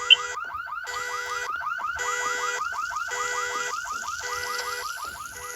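A car alarm blares alone with a loud, steady warbling tone that repeats in rapid cycles, broken up by short bursts of higher-pitched chirping.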